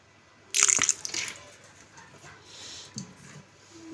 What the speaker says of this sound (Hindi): पानी इतना ऐड करेंगे कि गोश्त डिप हो जाए